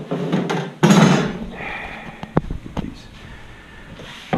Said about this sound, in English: now what we're going to do is we're going to lay some clamps on here.